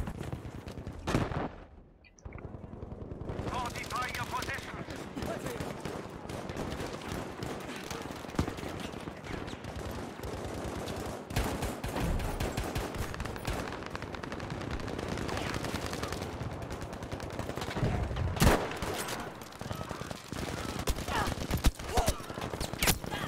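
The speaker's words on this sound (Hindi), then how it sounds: "Machine gun." Rapid machine gun bursts in Battlefield V, in a war campaign battle with dense gunfire and explosions that run almost unbroken for over twenty seconds, loud and close.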